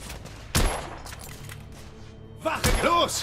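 Gunfire in the video game The Order: 1886, with two sharp, loud shots about two seconds apart and quieter combat noise and game dialogue between them.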